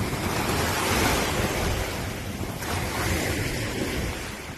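Waves in the Persian Gulf roll and wash continuously, close and loud, with broadband surf noise and some wind buffeting on the microphone.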